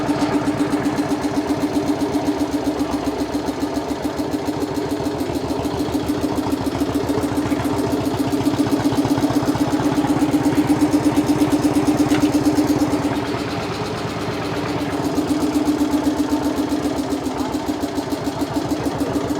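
A Swaraj 720 tractor engine runs steadily at close range, a continuous rhythmic diesel chugging and clatter that swells slightly in loudness partway through, with no talk over it.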